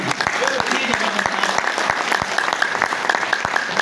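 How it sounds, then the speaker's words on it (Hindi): Audience applause at a leaders' business event in Jaipur, steady dense clapping with sharp individual claps standing out, while a voice or cheer carries over it throughout. "एक बार सभी के लिए एक बार जोरदार ताली।"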